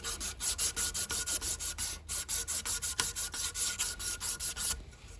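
A hand file rasps back and forth across a knife blade clamped in a vise, a fast, even rhythm of about twenty close, scratchy strokes that stop near the end.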